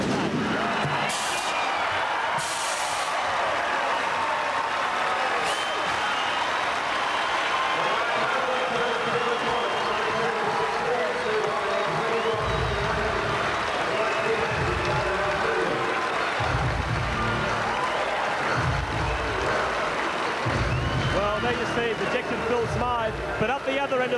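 A home crowd at Flinders Park, Melbourne, roars and cheers after the Melbourne Tigers' basketball win over the Canberra Cannons in 1992, a dense continuous wash of noise from start to finish, with an announcer talking over it.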